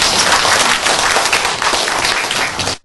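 Dense, steady audience applause welcomes a lecturer to a university medical school special lecture, filling the room without a break for nearly three seconds before cutting off abruptly.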